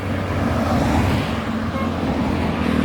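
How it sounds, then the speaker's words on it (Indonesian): Constant loud engine rumble and road roar as an intercity bus pulls away from Solok in West Sumatra bound for Jakarta, a steady low drone with traffic noise around and no talk. "memantau keberangkatan bus Sumbar menuju perantauan Jakarta"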